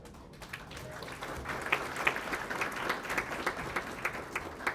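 Steady applause from an audience, many hands clapping together and building slightly in intensity, with no voices standing out.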